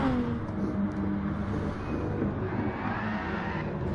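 Group 3 race cars, including a Mazda and a Datsun, cross the finish line on a Japan track in Gran Turismo Sport, giving a steady, fairly quiet engine drone with faint rising revs.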